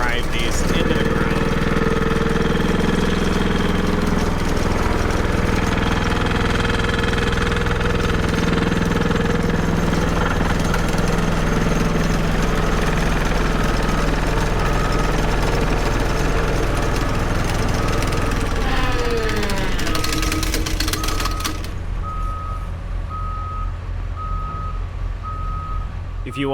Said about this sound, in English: they're using the vibratory hammer again on the 100-ton crane to be able to go ahead and drive these into the ground